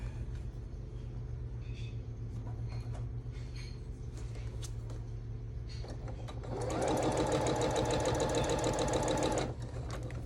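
A sewing machine joins quilt pieces in a steady, loud mechanical run that starts partway through, after a stretch of quiet room rumble.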